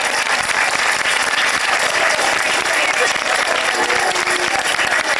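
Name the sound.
applause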